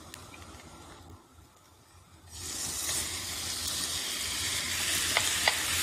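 Chicken and softened onions with green ginger and bay leaf start frying in a pot: a quiet stretch, then a loud, steady close sizzle with stirring scrapes, no talking.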